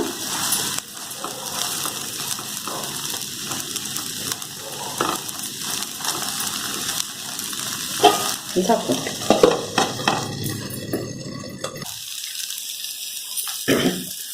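Rice pancake batter (amboli) frying in oil and butter on a pan, a steady soft sizzle with occasional light scrapes and clinks, fading to near quiet toward the end.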